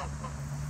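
A single honking call from a feral domestic greylag goose, close by and held briefly, with a steady nasal tone over faint background noise.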